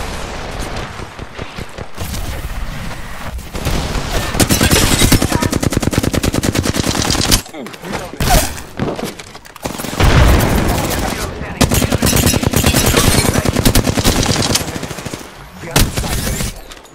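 Apex Legends gunfire: long, rapid automatic bursts of shots, loud and close, broken by short pauses and occasional booms, with in-game voice callouts mixed in.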